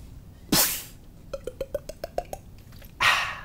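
A beatboxer's mouth imitates drinking sparkling water: a sharp burst, then a quick run of about nine evenly spaced hollow tongue clicks like gulps, ending in another breathy burst, close and alone with no talking.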